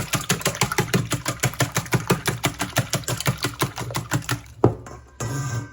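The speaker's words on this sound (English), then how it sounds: "Our eggs are in our bowl. Whisk them up a bit." Fresh eggs being whisked in a bowl: a steady, quick run of rhythmic beating strokes, about four per second, fairly close and loud, ending with a single knock and a short scrape.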